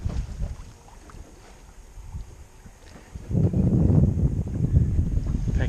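A Nova 28 sailboat glides quietly over the sea near Parengarenga Harbour: soft water wash and wind rumble, faint at first, then swelling into a fuller rushing noise partway through.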